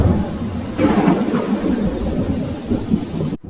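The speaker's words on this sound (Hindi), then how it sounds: "तभी बहुत तेज बारिश होने लगी" Heavy rain pours down with rolling thunder, a dense steady wash with a louder rumbling swell partway through, ending in a sudden cut.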